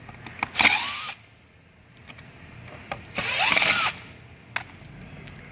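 A power tool, likely a drill or driver, backs out bad screws from a parachute handle, in two short whirring bursts separated by quiet pauses with light handling clicks, close and fairly loud.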